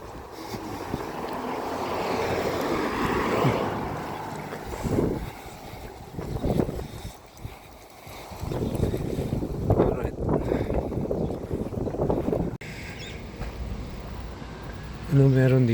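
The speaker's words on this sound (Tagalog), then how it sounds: "Naririnig nyo ba yung hangin mga ka-alright?" Strong wind blasts across an outdoor microphone in heavy, uneven gusts that swell and ease over several seconds, with a voice speaking intermittently beneath the roar.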